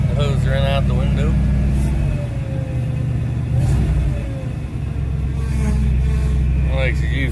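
The engine of a 1978 GMC one-ton dump truck, idling steadily after a cold start despite a leaking fuel pump, a deep, close rumble running throughout while people talk over it.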